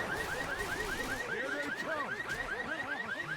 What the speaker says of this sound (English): And they do eventually trigger that car alarm.